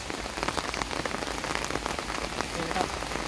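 Steady rain falling and pattering on surfaces, a dense continuous hiss with scattered drops throughout, no voices.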